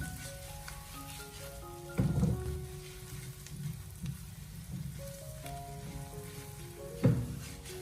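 Ginger and scallion stir-fried in a wok with a splash of cooking wine, a steady crackling sizzle with occasional louder spatters and scraping bursts, set under soft background music.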